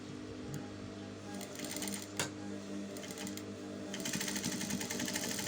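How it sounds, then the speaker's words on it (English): A sewing machine stitching a halterneck dress, a rapid close mechanical chatter in short runs that picks up into a steadier burst toward the end. "Then I'm going to sew."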